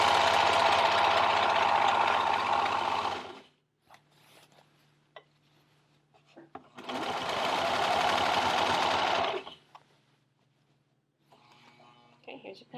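A sewing machine stitches a circle skirt in two loud, steady bursts of whirring, each a few seconds long, separated by a quiet pause with faint handling sounds and soft talk.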